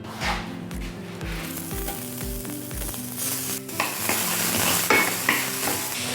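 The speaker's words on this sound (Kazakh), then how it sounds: "Осыны қуырып жіберсек болады." Halved onion frying in a pan for a homemade burger sauce, a bright continuous sizzle close up, with soft regular thumps early on and occasional utensil clinks as it is stirred.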